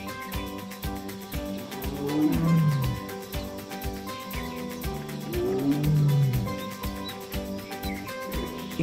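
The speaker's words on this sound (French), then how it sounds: "Il tente d'en attirer une avec ses rugissements." A male Bengal tiger lets out two long, deep roars a few seconds apart, rising and falling, over a busy background of birdsong and bamboo forest ambience.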